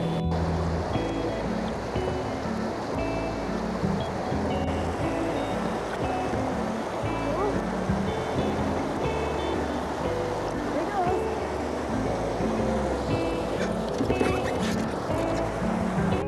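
River water flowing along a bank where people are fishing for walleye and pike, a steady close washing rush that holds without a break, with faint bird calls in the background.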